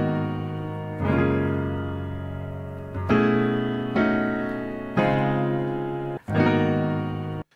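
A run of sustained chords on a synth-like instrument, each new chord striking about every one to three seconds, rich and harmonic, ringing alone without talk.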